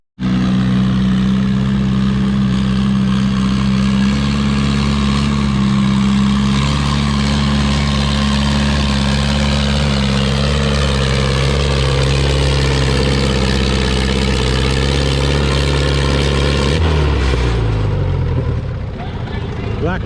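A black WD tractor strains through a tractor pull, its heavy engine bellowing in a loud, sustained low drone for about seventeen seconds before the pitch drops and wavers as it slows.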